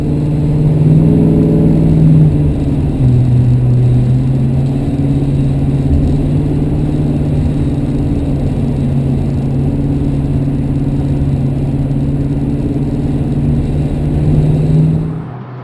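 A 1966 Ford Mustang coupe with a V-8 cruises a freeway onto I-5 northbound out of Seattle, its engine holding a steady, loud mid-pitched drone with a slight pitch shift early on and a brief swell near the end.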